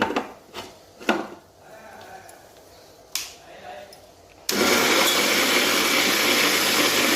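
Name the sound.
mixer grinder grinding roselle pod chutney with cumin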